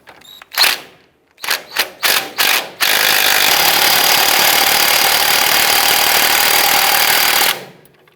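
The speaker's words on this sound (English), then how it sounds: "We'll go ahead and snug these bolts down." Impact or power wrench snugging bolts on the front upper control arm of a 2004-2012 Chevy Colorado: several short loud bursts, then one long steady rattling run of about five seconds, close up.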